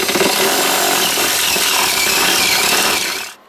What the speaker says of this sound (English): we're going to drill that hole there, and here's the step bit on the end of the drill